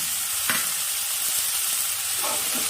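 Spice masala of cumin and chilli powder frying with onion and ginger paste, a loud, even, close sizzle with faint stirring scrapes.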